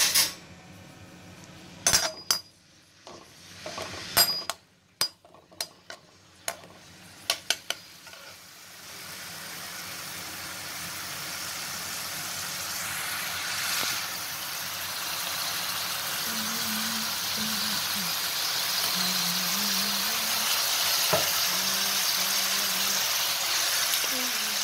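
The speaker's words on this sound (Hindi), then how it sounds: "तो सबसे पहले आप एक कढ़ाई में थोड़ा सा टमाटर और तेल डाल दीजिए और इसको गरम होने दीजिए" Tomato and oil heat in a kadhai on a kitchen stove, first with scattered clinks and knocks of utensils, then a steady, soft sizzle that builds and holds in the background.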